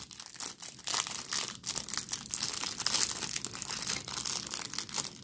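Foil wrapper of a Topps Heritage trading card pack from a hanger box being carefully torn open, a continuous close crinkling and crumpling with sharper tearing bursts throughout, no talking.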